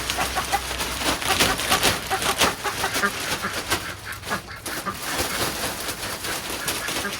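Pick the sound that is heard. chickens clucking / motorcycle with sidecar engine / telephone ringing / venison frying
chickens clucking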